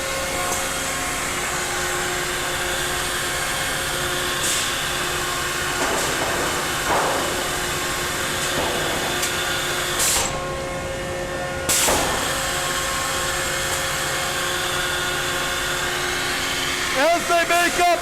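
Machinery drones steadily on a wood facility's board makeup line as jump belts grab and side-clamp boards, with a brief loud burst of hiss midway and a faint voice at the end.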